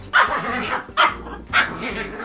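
A dog barks and yelps in three loud, sharp bursts roughly half a second apart, more barking than growling, with a low rumbling undertone between bursts.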